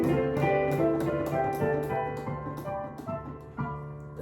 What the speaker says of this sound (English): That is the sound of Dorian mode.